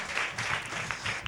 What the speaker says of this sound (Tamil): கைத்தட்டி கர்த்தருக்கு ஸ்தோத்திரம் பண்ணுவோம்